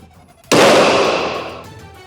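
A single loud firecracker blast goes off close by at a film press meet, a sharp crack that spreads into a decaying crackling burst lasting over a second, with no talk during it.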